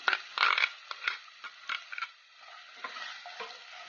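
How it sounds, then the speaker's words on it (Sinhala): Chopped large onion fries in two tablespoons of oil, with a soft sizzle and repeated scraping stirs of a spoon in the pan that come in uneven bursts, close and fairly quiet. "විනාඩි 2ක් විතර ලුණු ටික හොඳින් ටෙම්පරාදු වෙන දෙන්න ඕනේ"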